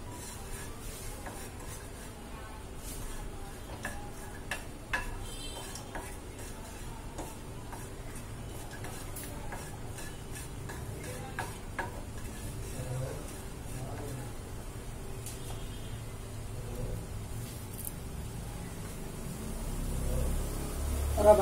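Whole black peppercorns and spices being stirred in a pan while cooking, a soft steady scraping and faint sizzle with small ticking clicks throughout, quiet and close, getting slightly louder near the end.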